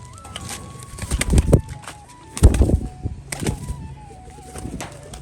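Female tumbler pigeon tumbling in flight, giving bursts of wing flapping in three distinct flurries, close and fairly loud over a steady background hum.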